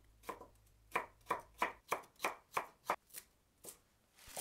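A knife cuts two carrots into julienne strips on a board, about ten crisp, evenly paced chops, close and fairly quiet, with no voices.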